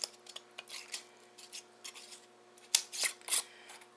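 Metal lids and screw rings go onto glass canning jars holding bacon and pork chunks, making a series of light, close clinks and scrapes, sparse at first and then a few sharper taps near the end.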